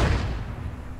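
A tank cannon fires in a World War II video game set at the Battle of Kursk, delivering one heavy, close, low boom that opens the moment and rumbles away.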